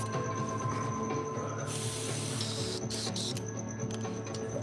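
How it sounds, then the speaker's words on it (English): Airbrush releasing a bursting hiss of cleaner onto a napkin over a steady low mechanical hum, with the spray rising partway through and pulsing in short blasts. "I'll spray a little bit on a napkin."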